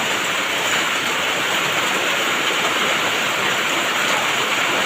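Steady, heavy rain pours down in a continuous dense hiss, unbroken and fairly loud throughout, with no voices.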